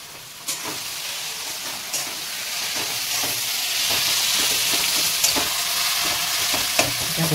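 Black taro greens stir-frying with hilsa fish head in a pan: a continuous sizzle and hiss with repeated scraping strokes of a spatula against the pan, close and steady, with no talking.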